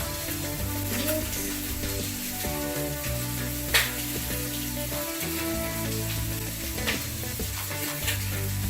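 Burger meat and bacon sizzle and crackle steadily in a hot pan, with occasional scrapes and stirring noises close by and a faint background hum.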